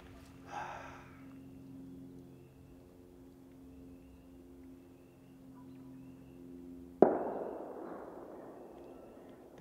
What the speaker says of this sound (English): I think someone has fireworks going off.